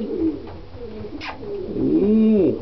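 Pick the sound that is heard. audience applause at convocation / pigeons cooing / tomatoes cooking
pigeons cooing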